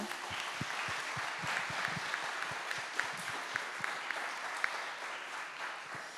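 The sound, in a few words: applause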